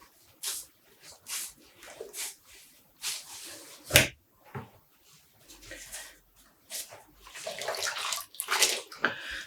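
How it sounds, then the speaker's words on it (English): Black-dyed yarn dunked and sloshed in a basin of water, giving repeated wet splashes and swishes in an irregular rhythm, close and moderately loud. "Best way to detangle yarn is to dunk it like this in water."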